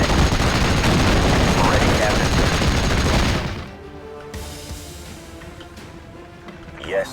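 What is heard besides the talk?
gunfire in Steel Division: Normandy 44 video game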